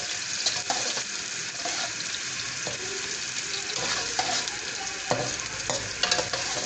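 Garlic fries over a high flame in a pan while cooking chow mein, giving a steady close sizzle broken by occasional scrapes and stirring clatters, with no talking.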